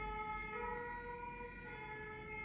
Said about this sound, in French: Vous entendez les sirènes?